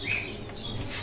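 Soft fluttering of pigeon wings close by inside a cage, a brief burst of flapping over a steady low hum, with faint chirps in the background.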